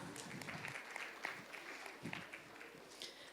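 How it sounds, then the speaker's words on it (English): Summit audience applauding as a speaker is welcomed to the stage, faint, uneven clapping from a modest crowd with scattered louder individual claps, heard at a distance. "let's welcome Shweta up here with a big round of applause."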